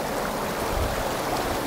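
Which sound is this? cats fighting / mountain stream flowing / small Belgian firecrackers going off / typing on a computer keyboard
mountain stream flowing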